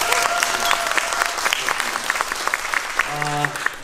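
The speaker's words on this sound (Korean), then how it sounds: "박수 한번 주시죠." Audience applause at a special curtain call for the musical The Priests, a loud continuous crowd clapping with cheers, with a voice speaking over it and a brief sustained tone near the end.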